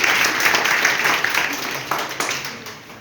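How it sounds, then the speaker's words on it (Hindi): An audience at a school debate claps and applauds steadily throughout, a dense wash of hand claps from a crowd nearby. "तालियां बजा दो।"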